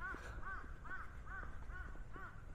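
Crows caw repeatedly in a steady rhythm at a seaside temple in Busan, six harsh calls spaced about half a second apart over a low background hum, with no talking.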